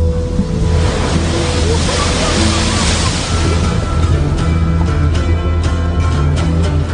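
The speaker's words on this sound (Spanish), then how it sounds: "se ve cercado por toneladas de agua y olas rompientes" Ocean waves breaking with a loud, continuous roar of surf and churning water, a low rumble underneath, heard up close without pause.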